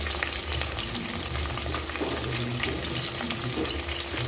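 Chopped onions frying in a pan for a quick homemade biryani, a busy crackling sizzle with stirring scrapes and watery bubbling, close and fairly quiet, no talk.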